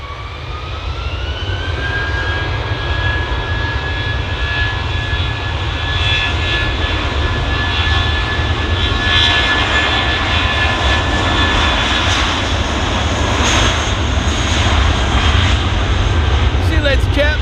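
A Qatar Airways jet airliner taxis close by, its engine roar steady and loud for the whole stretch, with a rising whine on top and voices talking over it.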